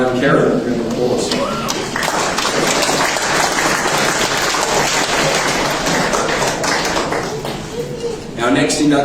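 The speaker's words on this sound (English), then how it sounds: "Round of applause." Audience applause at a Far West sporting hall of fame induction, a loud, dense burst of clapping sustained for several seconds before a voice briefly cuts in near the end.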